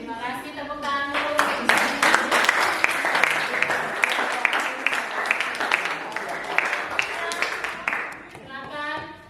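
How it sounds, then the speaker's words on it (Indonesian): A class of eighth-grade students applauds in a school classroom. Brisk, dense hand clapping rises quickly, holds for several seconds and then tapers off, with brief voices before and after. "Terima kasih, tepuk tangan dulu."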